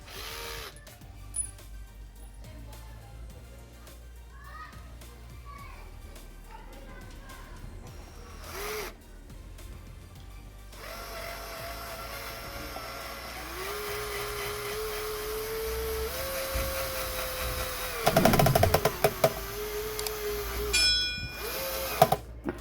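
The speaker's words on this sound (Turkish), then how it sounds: "Buraya bir vida daha atacağım dostlar." A power drill drives a screw into a broken electric fan being repaired, its motor whining steadily for several seconds before a few short bursts. Quieter workshop handling noises come before it.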